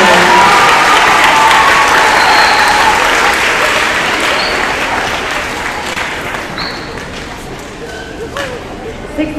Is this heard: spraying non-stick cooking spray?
no